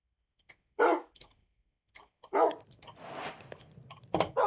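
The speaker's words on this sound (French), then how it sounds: "Petit chien." A small dog barks in Minecraft, several short yips spaced apart over a quiet game backdrop with faint clicks, fairly close and clear.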